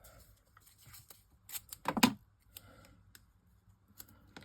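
Scissors snip through a paper sentiment, producing a short burst of close, crisp cutting clicks after a few faint rustles, otherwise quiet.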